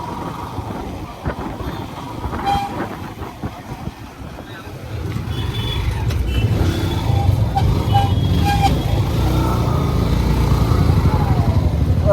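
Motorcycle ride on a day out during Saraswati Puja, a close engine drone with wind buffeting that grows louder and steadier after a few seconds as the bike picks up speed.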